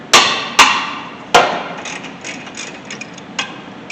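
A 17mm wrench loosens a caliper bracket bolt on a 2013 Honda Civic during a brake job: three loud metallic knocks, then lighter ticking clicks.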